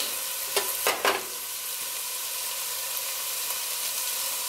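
Chopped onion sizzling in hot oil in a pan over medium-low heat for okra and tomatoes, a steady broadband frying hiss with a few louder crackling bursts early on, close and with no talking.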